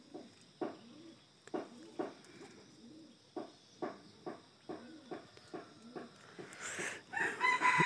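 A jungle fowl calls in a steady series of short, clipped notes roughly every half second, moderately close and clear, before a louder rustling noise builds at the end.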